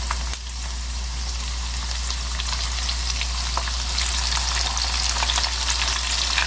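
Beef pieces for pasanday sizzle and fry steadily in a pan with golden-brown onions, a continuous close crackling hiss with light stirring noises, no talk.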